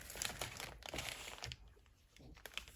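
Plastic packaging crinkles and rustles up close as craft supplies come out of a subscription box, in uneven bursts that fade briefly before a final few crackles.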